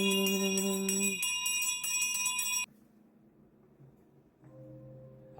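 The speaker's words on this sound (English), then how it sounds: "she hears the bells ringing" Bells in the woods ring in a bright, sustained cluster that stops abruptly, followed by quiet and then a softer tonal hum.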